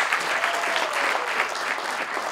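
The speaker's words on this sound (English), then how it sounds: "Clap hands for yourself." Audience applause at an awards ceremony, a steady dense clapping from a large crowd that holds at an even level throughout without pause.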